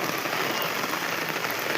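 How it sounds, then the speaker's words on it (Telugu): Heavy rain pouring down in a village during a Bay of Bengal low-pressure storm, a dense, continuous hiss of drops hitting surfaces, loud and steady with no voices. "మా ఊరు చూడండి ఫ్రెండ్స్ ఎలా పడుతుందో వాన."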